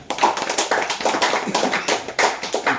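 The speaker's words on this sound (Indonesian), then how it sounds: "Mungkin kita tepuk tangan untuk kita semua." A small gathering at a thanksgiving event for the Flotim diaspora in Kupang claps in a steady run of distinct, fairly crisp hand claps, moderately close and without talk.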